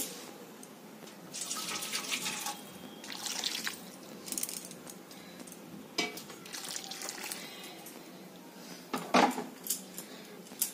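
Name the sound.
hot water poured into a pot of cooking meat and potatoes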